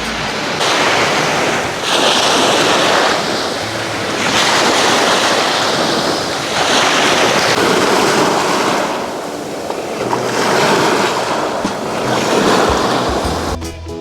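Ocean waves surge and break repeatedly in long rolling swells on a beach at Pattaya, with steady wind rushing across the microphone and no voices.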